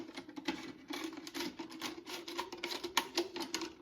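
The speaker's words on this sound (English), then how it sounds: "I'm going to poke a hole through with a utility knife, but I'm going to cut it with scissors." Scissors cutting around a plastic bottle, a rapid run of small crunching snips and scratchy crackles up close at moderate volume, with no voices.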